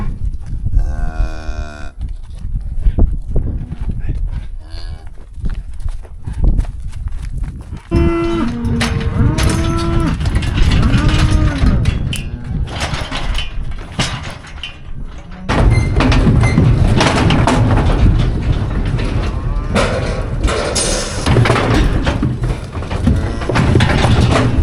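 Cattle low repeatedly, several moos sounding close and loud over a steady background rumble of animals moving, with thuds and gate-like clatter.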